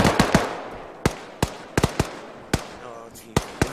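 Sharp, isolated gunshots from the military game Arma 3 crack out one or two at a time with short gaps between them, set in an Afghanistan ambush on Soviet forces.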